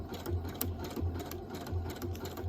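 A sewing machine stitches a zigzag seam along a fabric edge with a steady, close mechanical whir and rapid needle clatter, running continuously without speech.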